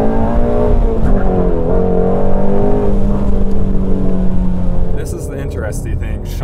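A Chevrolet ZL1 and a Shelby GT350 cruise along an Angeles Crest canyon road, and a strong engine note drones and climbs as one accelerates. Wind and road roar sit under it, and the sound drops back near the end.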